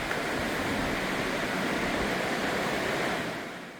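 Water rushes down the Baekdam valley stream in Seorak, a steady, loud, broadband roar close by. It holds constant throughout and eases off slightly at the very end.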